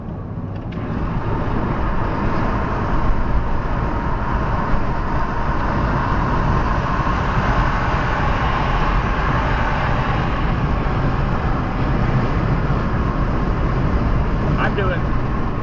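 Steady, loud road roar from a car moving at about 75 mph with a window rolled down, a constant wash of tire and wind noise with no break.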